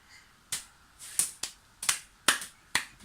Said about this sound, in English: He's like bouncing up and down and clapping